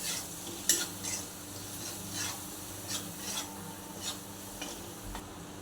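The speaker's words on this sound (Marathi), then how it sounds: "गरम मसाला, हळद, चवीनुसार मीठ, धने पावडर, सर्व मसाले तेलामध्ये परतून घेऊ।" Garam masala, turmeric, salt and coriander powder sauté in hot oil in a pan, with a soft sizzle under repeated scraping strokes of a spoon against the metal. The sound is close and steady, with no talking.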